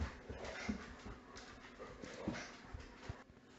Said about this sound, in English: my dog just came in the room, so you're going to be hearing him and his chewing